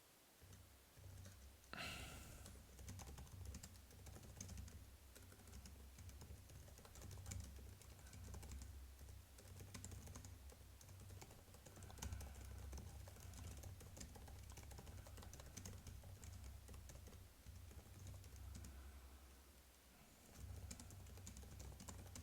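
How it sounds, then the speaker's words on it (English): Rapid, steady clicks of typing on a computer keyboard go on for over twenty seconds, fairly quiet and close, with no one talking. "you will hear me typing"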